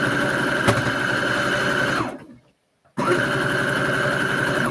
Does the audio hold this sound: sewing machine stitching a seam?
yes